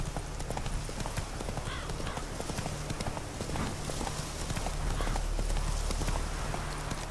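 Roach the horse in The Witcher 3: Wild Hunt, hooves clip-clopping in a steady trotting rhythm, near and continuous over ambient game sound.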